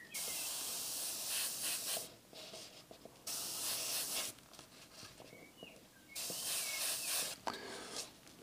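An airbrush sprays paint in soft, steady hissing bursts of one to two seconds, alternating with quieter gaps, heard close and alone.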